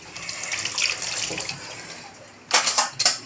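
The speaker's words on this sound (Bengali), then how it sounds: "দাঁড়ান হাতটা একটু ধুয়ে নিই" Tap water runs in a kitchen sink as hands are rinsed during home cooking, a soft steady splash that swells into a louder, fuller gush near the end.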